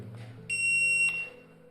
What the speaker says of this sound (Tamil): நான் டச் பண்ணும்போது பீப் சவுண்டு வந்துச்சுன்னா இந்த எல்இடி வந்து வேலைக்கு ஆகாதுன்னு அர்த்தம்.